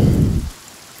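Heavy rain in the video game The Forest, a dense, loud rushing wash that stops abruptly about halfway through, leaving only a faint hiss.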